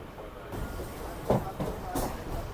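A Kolkata circular railway train pulling away from the platform, a low steady rumble of rolling stock with a few brief clanks and hisses, moderately loud throughout, with faint voices in the background.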